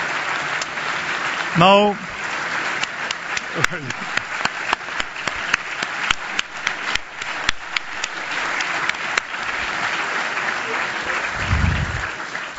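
An audience applauds at an award ceremony, with sustained clapping across the whole stretch and a voice speaking briefly over it.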